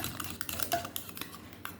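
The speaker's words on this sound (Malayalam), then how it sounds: "ഈ ഫ്രഷ് ക്രീം നമ്മൾ ഒഴിച്ച് കൊടുത്തിട്ടുണ്ടെങ്കിൽ നമുക്ക് വീണ്ടും നന്നായി മിക്സ് ചെയ്യണം" A spoon clinks against a bowl while fresh cream is mixed in for pudding: quick, light, irregular taps and scrapes, close and fairly quiet, with no talking.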